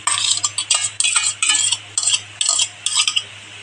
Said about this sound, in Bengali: আলু, মাংস, মশলা একসাথে ম্যারিনেশন করে নেব।